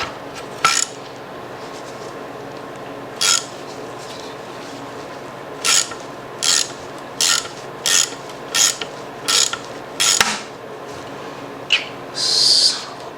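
Ratchet wrench tightening a bolt during reassembly of a Jatco JF011E / RE0F10A CVT transmission, heard as repeated short clicking bursts at irregular intervals, fairly close, over a faint steady background with no talking.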